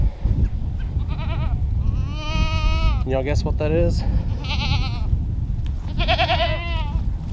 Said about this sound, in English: Curious goats.